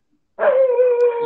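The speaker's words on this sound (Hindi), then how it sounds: "कुत्ता भौंक रहा है" A dog gives one sudden, sustained whining howl-like bark, loud and close, starting after a moment of silence and holding steady for about a second.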